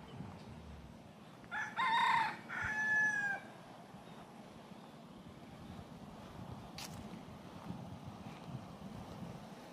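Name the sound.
bantam rooster crowing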